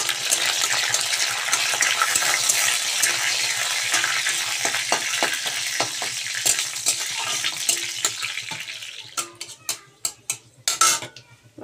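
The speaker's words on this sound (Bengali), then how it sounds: "এবার আমি ফোড়ন দিয়ে দিচ্ছি কালো জিরে," Nigella seeds and a bay leaf crackle in hot oil as a tempering, a loud close sizzle that gradually dies down, ending in separate pops and a few utensil clinks.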